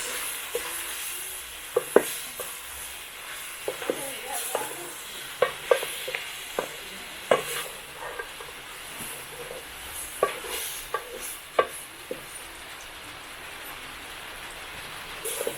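Tomatoes being stirred into beef stew cooking in a village kitchen: irregular, close scraping and clattering stir strokes over a continuous bubbling sizzle that runs for about fifteen seconds.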